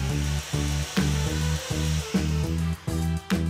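An electric drill bores a hole into wood with a thin bit, its steady motor whine close and loud, cutting out and restarting in short repeated bursts.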